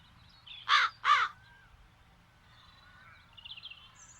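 Two loud crow caws in quick succession, followed by faint distant calls over low ambience, in the adventure video game The Dark Eye: Chains of Satinav, set in the town of Andergast.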